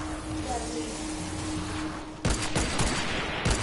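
Video game gunfire starts partway through as loud, rapid bursts of shots after a quieter stretch of background game noise.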